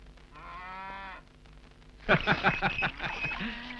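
A purebred cow gives a long, steady moo, then after a short pause a second, louder call breaks into choppy, pulsing grunts, close and clear with no talking.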